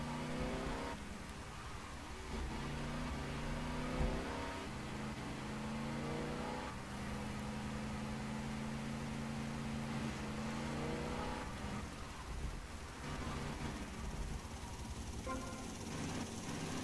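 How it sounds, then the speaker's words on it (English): Police Cheetah sports car from GTA: Vice City revving hard, its engine note climbing and shifting through gears in a steady, loud run with faint game effects underneath. "Ah, not the police cheetah. Those things can shift even faster than barracks trucks can."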